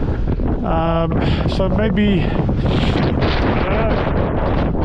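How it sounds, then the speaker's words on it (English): Strong wind buffets the microphone high on bleak, remote moorland about 410 meters above sea level, a steady loud rumble throughout with a person speaking briefly over it. "It's obviously very windy."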